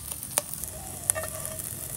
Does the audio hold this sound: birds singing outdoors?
no